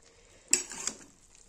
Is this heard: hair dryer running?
no